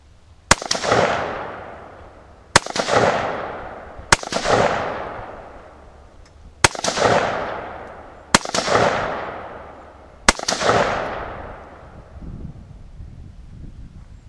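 Six loud rifle shots from a Tula .223 ring out at an outdoor range, spaced about two seconds apart, each a sharp crack followed by a long fading echo, with light wind noise between them.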